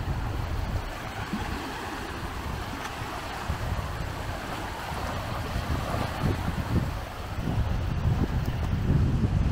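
Wind and surf on a clean, light-sand beach by a promenade in Palma de Mallorca, a steady broadband rush with low rolling wash and gusty buffeting on the microphone throughout, no talk.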